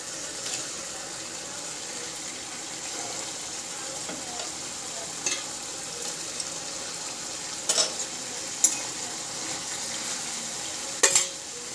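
Hilsa fish pieces going into a pan with mustard sauce, a soft steady sizzle and bubbling with occasional sharp clinks and scrapes of a utensil against the pan.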